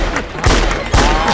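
Celebratory gunshots at a birthday party, two sharp loud bangs spaced about half a second apart over a noisy festive background.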